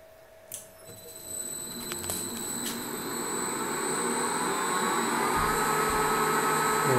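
A PM1236 lathe driven by a Huanyang VFD spins up in forward, a steady motor whine rising in pitch and growing louder, close and continuous without talk.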